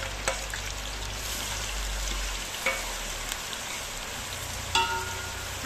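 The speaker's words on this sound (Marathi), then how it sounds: "हा बारीक चिरलेला कांदा आहे, तो आपण परतून घेणार आहोत।" Finely chopped onion sautéing with cumin seeds and bay leaves, a quiet, even sizzle with a few sharp spatula taps against the pan and a low hum fading partway through.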